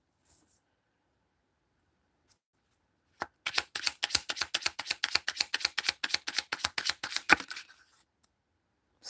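A deck of tarot cards is shuffled in a quick riffle: after near silence, a rapid run of about thirty crisp, close flicks rattles for roughly four seconds and then stops abruptly.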